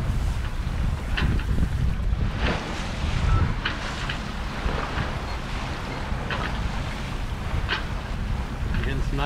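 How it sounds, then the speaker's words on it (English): A sailboat on Kentucky Lake cuts through the water with irregular splashes and sloshing at the bow, mixed with gusty wind buffeting the microphone, and occasional voices speaking aboard. "You're getting some nice splashing off the bow"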